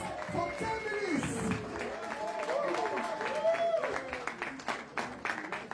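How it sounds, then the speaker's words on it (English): An audience applauds to welcome a speaker at an Edo State gathering. The clapping is faint and scattered, and a voice and crowd chatter run over it. "Ladies and gentlemen, with a round of applause, let's make welcome Dr. Pedro OBASEKI to address us for 10 minutes."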